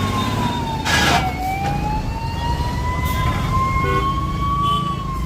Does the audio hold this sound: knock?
no